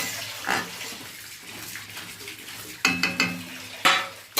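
Cut cauliflower and potatoes are washed by hand in a large bowl, with sloshing water and a few sharp splashes and clatters of vegetables near the end.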